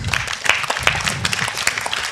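Audience applause for four panelists at a panel discussion, a brief burst of close, crisp hand claps from a modest crowd.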